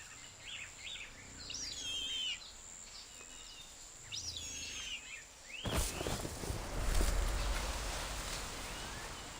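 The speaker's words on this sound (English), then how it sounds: "New bird just hatched." A newly hatched bird chirps in Reverse: 1999, thin high twittering calls in short bursts over soft ambience, followed by a swelling rustle and rumble that builds louder toward the end.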